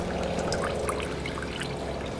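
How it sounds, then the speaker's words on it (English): Plain flush water draining out of a 1988 Isuzu Trooper's crusty cooling system, a steady pouring, trickling stream running continuously and fairly quietly, with no talk over it. "Here's our first flush of just water."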